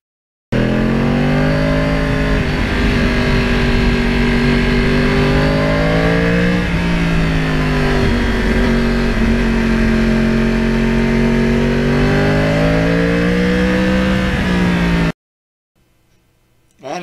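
A Yamaha R1 crossplane motorcycle engine while riding, a loud, steady roar that rises and falls in pitch through gear changes for about fourteen seconds, then cuts to near silence.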